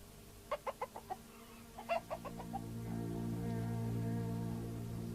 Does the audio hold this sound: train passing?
no